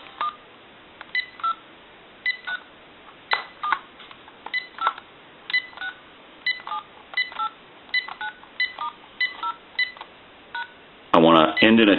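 A General Electric 6.0 cordless telephone handset dials through its numbers, producing a steady series of short, clear DTMF beeps evenly spaced, ending with a louder burst of tone.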